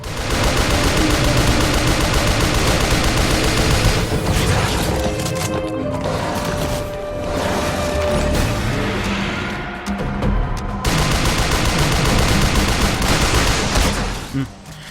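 Heavy gunfire from the video game Shadows of the Damned comes in long dense bursts with crashes and impacts. It is loud throughout, with brief lulls between volleys.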